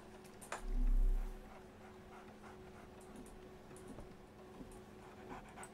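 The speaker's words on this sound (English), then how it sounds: "So, Barnes has a dog now." Dog panting in the video game Sherlock Holmes Awakened, a steady quiet breathing rhythm under a low ambient hum, with one louder soft swell near the start.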